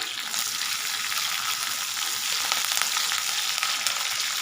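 Chopped green chilies and curry leaves sizzle in hot oil with browned garlic for a Punjabi-style kadhi pakora, a dense, even crackling hiss heard up close with no voices.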